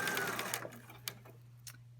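Sewing machine stitching a 5/8-inch seam on a top, heard with a steady low motor hum and rapid needle clatter that fades, followed by a few faint clicks.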